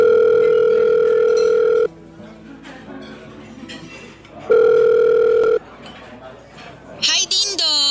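Telephone ringback tone heard while calling someone: two long, loud, steady electronic tones separated by a quieter gap with faint background clinks, ending with a brief burst of other sound.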